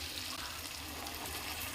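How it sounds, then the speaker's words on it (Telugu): Water poured into a pan while cooking paneer butter masala: a steady, faint splashing hiss that runs without break for under two seconds. "వాటర్ పోసుకోండి."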